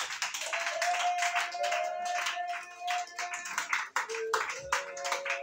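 A church congregation claps steadily and loudly for a sustained stretch, with singing and voices mixed in beneath the dense, continuous applause.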